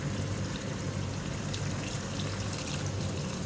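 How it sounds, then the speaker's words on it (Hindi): Hot water pours into a cooking pot holding leftover masala for a mutton and tinda curry, a steady, continuous splashing stream of moderate loudness with no talking. "थोड़ा सा मैंने गर्म पानी डाला है इसमें और ये इसमें डाल दूँगी"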